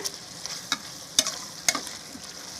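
A spoon scrapes and clacks through chicken pepper curry in a sizzling pan, sharp stirring knocks every half second or so over a steady close frying hiss.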